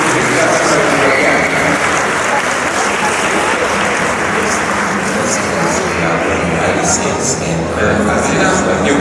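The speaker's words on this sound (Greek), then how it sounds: "Ένα χειροκρότημα" Loud, dense applause from an audience at the 27th annual awards ceremony in the Zappeion Megaron, Athens, Greece, sustained evenly for the whole stretch with a steady crowd wash beneath.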